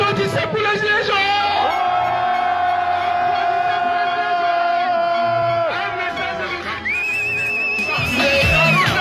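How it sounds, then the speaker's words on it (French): A crowd of gilets jaunes protesters cheers loudly, with long sustained whoops and yells rising in pitch and continuing without a break over the whole stretch. "Applaudissez pour les gilets jaunes."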